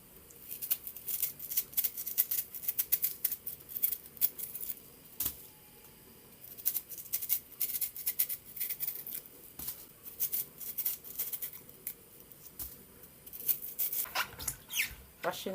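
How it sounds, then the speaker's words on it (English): A yam is peeled with a knife in close-up, producing repeated quick scraping and scratching strokes in uneven bursts, fairly quiet, with brief pauses between clusters. "Now I'm peeling my yam."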